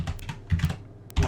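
Keys on a computer keyboard clatter in a short burst of close taps, ending with a firmer press of the Enter key.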